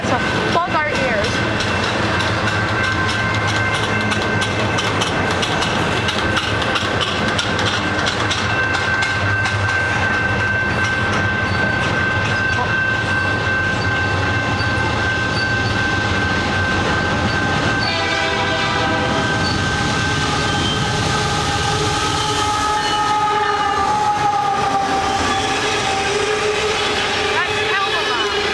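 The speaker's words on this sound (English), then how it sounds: "Oh, there's another train coming." A Canadian Pacific or West Coast Express train passes at Pitt Meadows: a loud, sustained horn blast over the rumble and clatter of rail cars, with voices talking nearby throughout.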